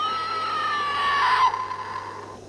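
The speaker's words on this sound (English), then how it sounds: "it screams, which I don't think Operation did, but the light came on" A Demart Alien Autopsy electronic toy game lets out a shrill, warbling synthetic scream lasting about a second and a half, then trails off into a fading whine.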